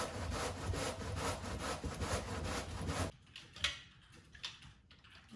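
Scraping while making zucchini bread from garden zucchini, a steady rhythmic rasping stroke for about three seconds, then stopping, with a few scattered taps and clinks afterward.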